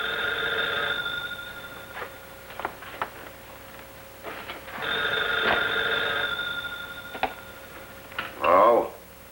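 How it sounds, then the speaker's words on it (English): A telephone rings in bursts in a 1941 Columbia Pictures mystery film, the bell sounding in repeated trills separated by pauses, with clicks and brief sounds between rings. "Why don't you answer your phone?"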